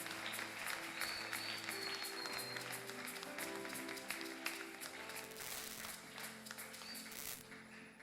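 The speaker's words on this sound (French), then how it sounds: "Acclamons pour le Seigneur." Church congregation applauding during a French-language worship and thanksgiving service, a steady dense wash of clapping that holds for several seconds, with organ or keyboard tones and a few voices mixed underneath.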